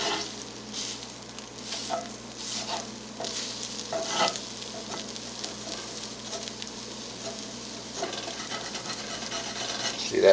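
Eggs fry in a cast iron pan with a soft, steady sizzle, punctuated by light clicks and scrapes of a utensil against the metal, fairly quiet and close.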